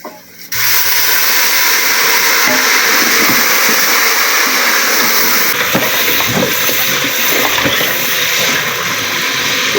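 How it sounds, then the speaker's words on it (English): Water poured into a pot of beef pilau with beef masala, a steady loud gushing splash that starts abruptly and runs continuously, with faint clatter of the pot underneath. "We are adding some little water."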